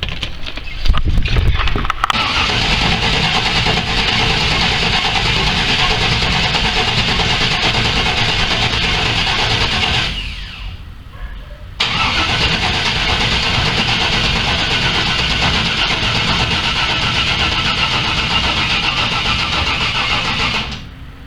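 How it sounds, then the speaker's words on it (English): A pickup truck engine cranks in two long, loud, steady bursts separated by a short pause, trying to start without catching. "But let's try and start it up, see what happens."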